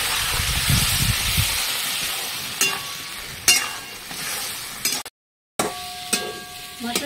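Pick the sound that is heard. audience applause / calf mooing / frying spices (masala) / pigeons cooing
frying spices (masala)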